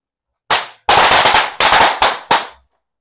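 Firecrackers go off inside a water gallon jug as five sharp, loud cracks. The first blast stands alone, then the rest come in a rapid rattling series, each ending in a short hollow decay.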